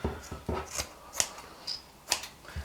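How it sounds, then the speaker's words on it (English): Scissors snipping off the corners of fabric for a no-sew octopus craft: about half a dozen quick, close, crisp cuts in an irregular rhythm, quiet and with no talking. "So your next step is just cut off the corners."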